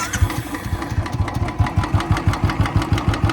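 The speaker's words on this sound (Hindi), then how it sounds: "ये देखिए, इसके टैपिट काफ़ी नॉइजी है" A Royal Enfield Classic 350 single-cylinder engine idles close by, with a steady rapid thump and a regular clattering tick from its noisy tappets.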